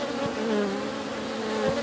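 Honeybees buzzing steadily up close during a hive cut-out removal, a continuous droning hum with a couple of individual bees flying past.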